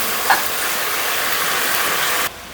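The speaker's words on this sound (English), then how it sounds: "I'm just catching some color on the meat and kind of let it half cook through" Meat browning in a pot over a Scotch bonnet base for Jamaican stew peas with chicken back: a steady, close hiss of sizzling that runs without pause and then drops off abruptly near the end, with no talking.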